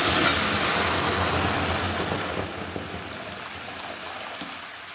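Warm water is poured into a hot pan of fried moong dal. A steady hiss and sizzle of broadband water noise is loudest at first and slowly fades, with no talking.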